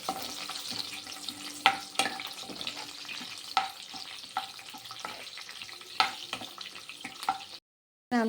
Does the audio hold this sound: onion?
yes